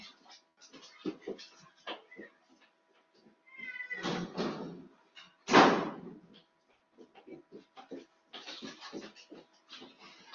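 A house cat meows loudly several times during an online class, its calls standing out between stretches of a person speaking.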